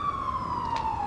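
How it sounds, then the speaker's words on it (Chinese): A fire engine siren wails in a steady, slowly falling tone, moderately loud over a faint street hum, with no voices. "对面来了辆消防车"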